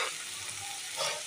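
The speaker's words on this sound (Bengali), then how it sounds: "এবার মশলাটা ভালোভাবে কষে নিচ্ছি" Spice paste with turmeric and sugar, mixed with fried cauliflower, frying in a pan for a fish curry while being stirred, a steady close sizzle with scraping strokes and no talk.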